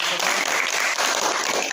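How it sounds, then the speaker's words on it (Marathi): Dense, steady applause from a village audience at a school felicitation ceremony honouring scholarship-winning students, continuous and loud throughout with no pause. "आपण टाळ्या वाजून हार्दिक अभिनंदन"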